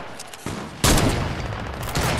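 Gunfire in the Fortnite battle royale game, a burst of shots starting abruptly and continuing as dense loud firing with another spike near the end, without speech.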